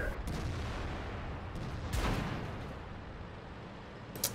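A tank cannon fires in World of Tanks, a heavy booming blast near the middle of the clip, over a constant low rumble of engine and battlefield noise.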